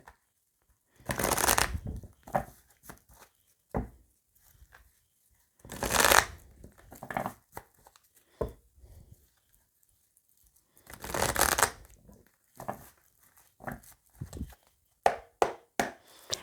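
A deck of oracle or tarot cards is shuffled and cut by hand, with three longer riffling bursts between many short slaps and taps of cards, close and clear in a quiet room.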